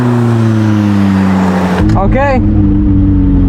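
McLaren 600LT sports car out on a race track, its engine a loud steady drone with harmonic bands that shift in pitch, then a brief voice speaking over it.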